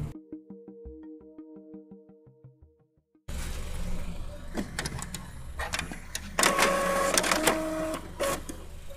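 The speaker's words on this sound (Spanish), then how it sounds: "está empezando a imprimir la impresora" A continuous ink printer powered by an inverter runs through a print job, starting with rhythmic mechanical ticking and whirring, then shifting into a louder, steady grinding feed with sharp clicks and clacks, heard close with no talking.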